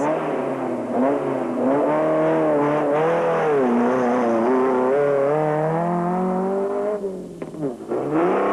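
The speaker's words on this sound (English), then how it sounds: "and Werner Otten were the first production vehicle crew off the start line" A production off-road rally vehicle accelerates hard off the start line at the Baberspan 200 off-road race in 2004, its engine revving loudly and climbing through the gears in a continuous close-up roar with no talk.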